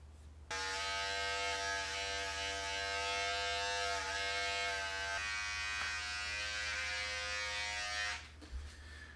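Electric hair clippers trim along the back of the neck and the edge of a beard, making a close, steady buzzing drone that starts abruptly and runs for about eight seconds before cutting off.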